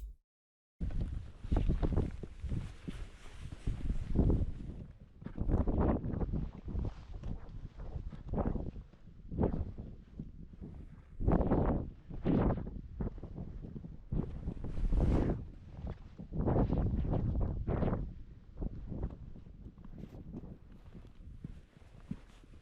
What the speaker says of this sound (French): Le vent souffle fort, les températures chutent